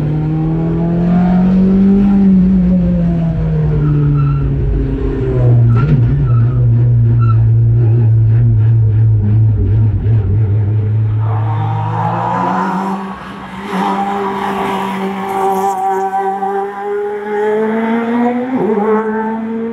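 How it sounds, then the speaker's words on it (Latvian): A rallycross car's engine roars and revs hard, with one loud sustained note climbing and dropping through gear changes. Near the end it shifts into a higher, rougher whine, and the car stays close and dominant throughout. "beidzot mašīna sāk rūkt."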